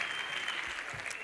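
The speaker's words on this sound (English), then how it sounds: "Please give him a round of applause." An audience at a youth empowerment event gives a round of applause, steady close clapping from a modest crowd lasting the whole moment.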